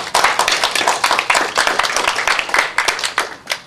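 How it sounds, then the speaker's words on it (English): Audience applause at a presentation, dense and close, with many hands clapping steadily and rapidly for several seconds without talk. "Can we take a moment and give a round of applause to John Burroughs?"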